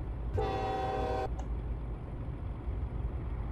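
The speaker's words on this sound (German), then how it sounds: "Hupe klingt wie vom Zug, ne?" A truck horn in Euro Truck Simulator 2, tuned to sound like a train horn, gives one steady chord-like blast of about a second over the low engine rumble, with a faint short tap just after.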